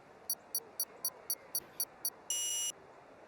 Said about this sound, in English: there is the beeping noise we've been waiting for.